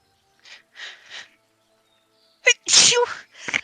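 A quiet sniffing buildup of short breaths, then a sudden loud sneeze burst close by, followed by a softer trailing exhale.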